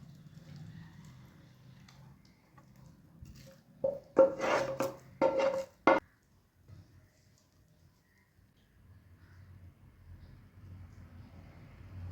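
Beetroot halwa scraped with a utensil from a cooking pan onto a plate, heard as a short burst of several rasping scrapes in the middle, fairly close, amid otherwise quiet room noise.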